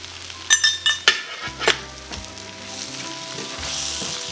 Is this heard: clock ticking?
no